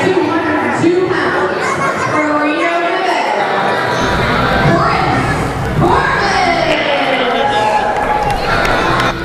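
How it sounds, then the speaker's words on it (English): A crowd at a professional wrestling television event in the NWA cheers and shouts continuously as wrestlers make their way to the ring, loud and dense, with chatter and excited yells throughout. "Grizzly giving Kris Korvis a big round of applause as Kris Korvis along with Andrew Shane make their way to the ring."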